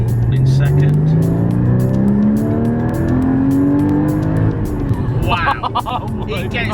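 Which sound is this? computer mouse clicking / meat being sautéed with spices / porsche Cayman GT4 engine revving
porsche Cayman GT4 engine revving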